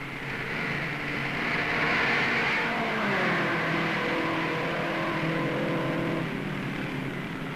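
Race cars at the 1958 Daytona race roar down the main straightaway in a steady, loud blur of engine noise with no voices over it.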